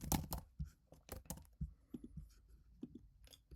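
Written feedback being typed on a computer keyboard, close and quiet, with irregular bursts of key clicks and short pauses between them, no talking.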